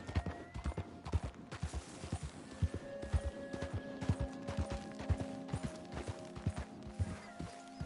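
Horse hooves clip-clop at a steady gallop in Red Dead Redemption, a rhythmic run of hoofbeats heard close under a soft game ambience with faint tonal hum.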